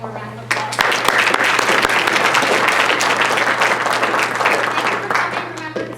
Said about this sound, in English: Let's give George one more round of applause.